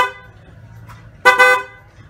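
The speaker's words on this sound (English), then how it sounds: "And you've got a horn." A Maxtrak 7 1/4 inch Drewry miniature locomotive sounds its horn in one loud, brief double blast after a faint short toot and quiet background hum.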